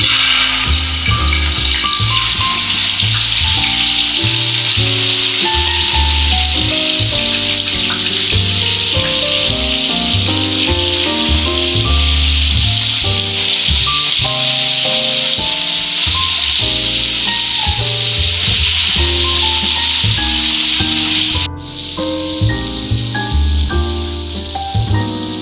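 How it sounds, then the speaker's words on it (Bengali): Fish frying in hot oil in a wok gives a constant loud sizzle and hiss throughout, under a layer of music. "মাছগুলো আমি হালকাভাবে ভেজে নিচ্ছি।"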